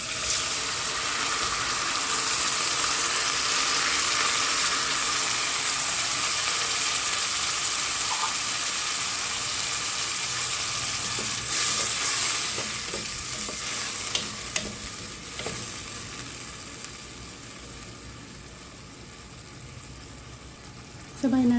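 Sardines in tomato sauce sauté in a pan with alugbati and sweet potato leaves, giving a steady, hissing sizzle and occasional stirring scrapes and clatters, with a louder knock at the end.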